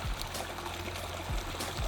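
A small spring trickles down a ravine garden in Florida, a steady close wash of running water with some low rumbling underneath and no talk.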